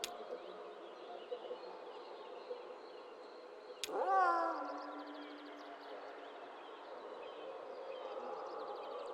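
A cat meows once in the video game Kentucky Route Zero, a clear, drawn-out call that rises and then fades over a faint, steady ambient hum, with no voices.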